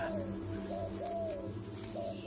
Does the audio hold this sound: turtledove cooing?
yes